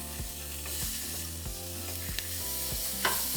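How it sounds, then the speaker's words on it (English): White rice fries with onion and tomato in a pan, a steady close sizzle with a few sharp scraping stirs at intervals, no talking. "we're going to fry it for about 5 minutes"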